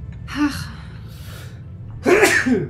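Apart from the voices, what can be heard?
sneeze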